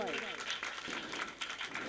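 Audience applause at a prize-giving event during a Ganpati festival gathering, a dense steady clatter of many hands clapping throughout, with a voice speaking over it at the start.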